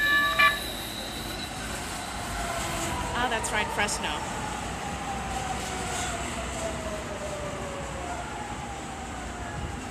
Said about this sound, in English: And here's another train coming.